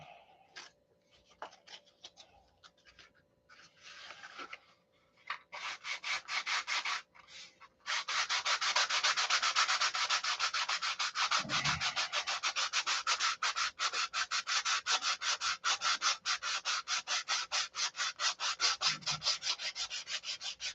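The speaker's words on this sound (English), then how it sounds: "I think my sandpaper is getting clogged up." Sandpaper rubs back and forth across wood by hand, starting with scattered scratches and settling into a fast, steady, close rasping rhythm that continues for most of the clip.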